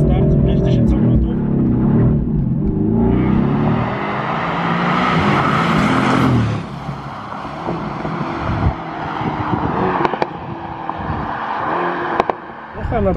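A limited-edition Mercedes-AMG GT R Pro launches from 5000 rpm with traction control on setting three. The loud engine roar climbs steadily in pitch for about six seconds, then drops to a lower, rougher drone with brief sharp pops.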